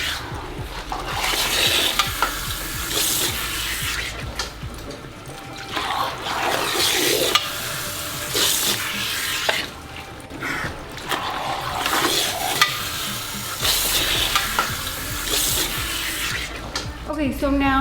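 Running water rinses through hair extensions at a salon wash basin, a steady splashing, trickling flow close by that swells and dips for the whole stretch.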